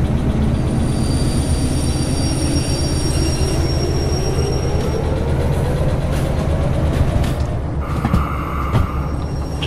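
A locomotive in the Derail Valley train simulator rumbles steadily with a rising wheel squeal, then braking hiss and clanks near the end, loud and close with no voices.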